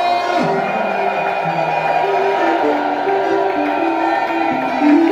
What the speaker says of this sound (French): Est-ce qu'ils peuvent pousser les cris de joie?